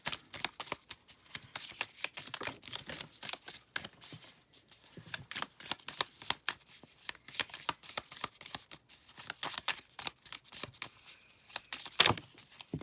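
Tarot cards being shuffled by hand in a steady stream of quick riffling, flapping bursts, close and fairly quiet, with no talking.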